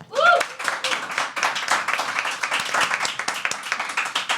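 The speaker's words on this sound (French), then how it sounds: "mesdames et messieurs, vous pouvez applaudir Simon qui a battu Paul 4-3." A game-show audience claps in a steady burst of applause that keeps going throughout, after a short vocal sound at the start.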